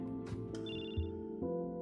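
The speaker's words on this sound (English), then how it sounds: "As you turn towards Anna, your phone starts ringing." A phone rings in the story game Choices: The Dalton Affair, a short electronic ringtone with bright repeating tones heard clearly and alone.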